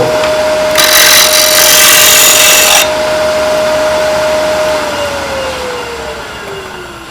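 A wood lathe turns a tower top with a loud steady motor drone and a whining tone, a harsh burst of tool-on-wood cutting noise in the middle, then the pitch slides down as the lathe slows.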